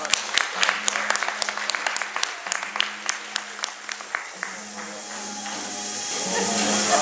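Audience applause at a fashion show runway presentation, a scatter of individual sharp claps that builds into a denser wash of clapping, with a low hum underneath and some voices.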